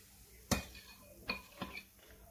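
A metal wok is lifted off a stove while making egg pantua pitha, giving a sharp metallic clank followed by two softer knocks and scrapes, close and fairly quiet, with no talk.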